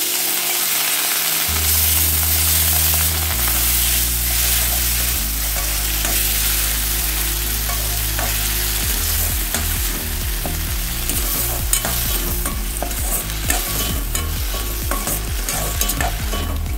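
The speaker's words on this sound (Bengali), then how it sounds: "এবার নাড়তে থাকবো।" Three large chopped ripe tomatoes fry in a pan for a Bengali vegetarian pea dish, stirred in steady continuous strokes with a constant sizzle over a sustained low tonal background.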